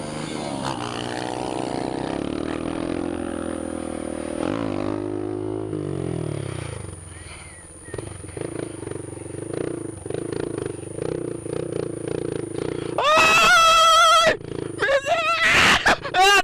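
A motorcycle engine drones and shifts pitch up close while doing a wheelie with a passenger, with voices shouting over it and a loud rattling clatter late on.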